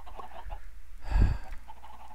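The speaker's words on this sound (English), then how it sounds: "These chickens are prolific egg layers" Minecraft chickens clucking nearby, a few short soft clucks followed by one louder burst in the middle, with no talk.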